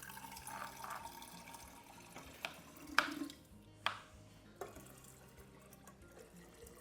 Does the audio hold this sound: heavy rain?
no